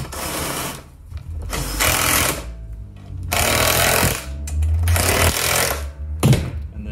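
A power driver tightens bolts on a Honda GCV160 carburetor from a Husqvarna mower, running in four loud rattling bursts of one to two seconds each, separated by short pauses, close up and without talk.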